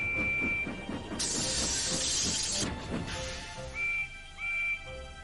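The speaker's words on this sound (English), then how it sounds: "Then he heard a faint whistle." Steam train whistles sound, first a long steady tone, then two shorter blasts after a chugging, hissing stretch, set in a synthetic soundscape from the game Sodor Online.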